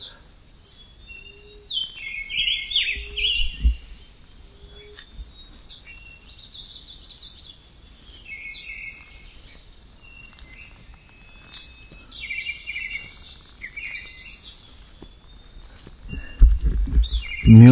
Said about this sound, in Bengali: পাখি ডাকছে, শুনছো?